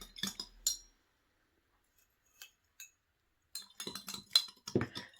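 Iron sulfate is stirred into homemade ink in a glass, giving bright clinks and light tapping of a stirrer against glass in two clusters, close and quiet, with a silent gap between them.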